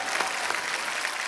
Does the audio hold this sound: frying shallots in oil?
no